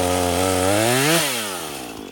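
A Husqvarna 440 chainsaw trims wood up close, its engine holding a loud steady buzz, then dipping in pitch as the chain bites into the cut and easing off toward the end.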